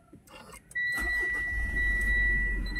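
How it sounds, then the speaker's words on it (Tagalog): A car engine cranks and catches, then settles into a steady low idle with a faint whine, heard close by outdoors with no talking. "Kaya start ko na yung sasakyan."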